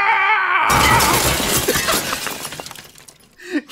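Glass shatters loudly and suddenly in Super Mario RPG, a bright crash followed by tinkling shards that fade over a few seconds.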